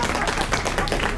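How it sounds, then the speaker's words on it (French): Audience applause for Jean-François Chanac at a mushroom festival in Saint-Bonnet-le-Froid, dense steady clapping from many hands sustained throughout, close and fairly loud. "Est-ce qu'on peut applaudir monsieur Jean-François Chanac"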